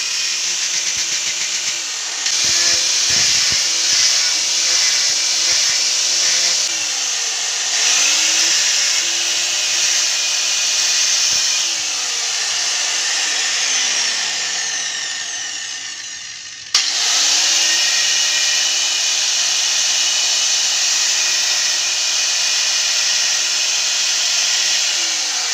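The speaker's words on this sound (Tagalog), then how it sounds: "ginagrinder natin yung gilid ng PVC para makinis po at matanggal yung matatalas sa mga gilid" An angle grinder smooths the sharp edges of a PVC holster, a loud continuous whine with rising and falling pitch as the disc loads and frees, briefly cutting out near the middle before starting again, with no talking.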